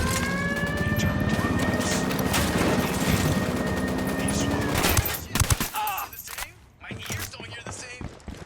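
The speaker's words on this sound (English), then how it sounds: "I'm opening fire." Dense automatic gunfire rattles continuously in a Ghost Recon Wildlands shootout, loud and sustained before breaking into scattered bursts and shots.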